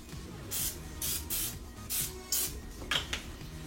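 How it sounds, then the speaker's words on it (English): Cooking oil is spritzed from a spray can onto vegetables, six short close hissing bursts in an even rhythm with quiet pauses between them. "What I'm going to do is use just a couple of sprays of cooking oil."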